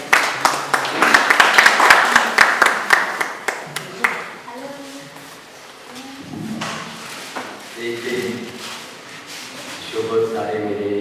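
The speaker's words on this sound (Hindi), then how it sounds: "डॉक्टर सुरजीत पातर जोरदार तालियां।" An audience at a Panjabi Bhawan birthday celebration for a poet applauds Dr Surjit Patar, a dense, loud burst of clapping that fades after a few seconds. Voices and music-like tones then take over.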